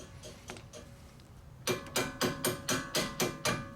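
Socket wrench ratcheting on a Jeep Grand Cherokee front shock mount bolt, a few faint clicks followed by a run of about eight sharper, evenly spaced ratchet strokes close by.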